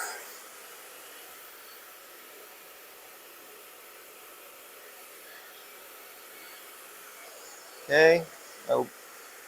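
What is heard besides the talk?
hair dryer drying hair after a haircut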